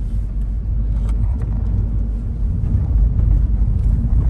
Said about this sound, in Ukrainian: Нормально керується, нормально вона прискорюється.